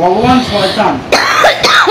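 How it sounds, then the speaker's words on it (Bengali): A person with a returning cough lets out a couple of short, harsh coughs or throat-clearing bursts, close and loud, tangled with bits of nearby speech. "ফের কাশিটা আমার শুরু হয়ে গেছে।"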